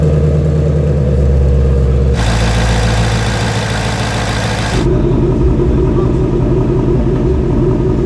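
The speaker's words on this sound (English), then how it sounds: "what would it sound like if the cylinders were firing at evenly spaced intervals?" A V8 engine sound with evenly spaced cylinder firing, tied to a Ford Mustang Shelby GT350, plays as a steady mid-pitched rumble that shifts character twice in distinct blocks, loud and close throughout.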